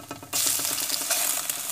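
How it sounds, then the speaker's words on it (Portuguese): An egg hitting hot oil in a pan: after a brief quiet start, a sudden loud, steady sizzle and crackle comes in close up and continues without a break. "Ovinho frito."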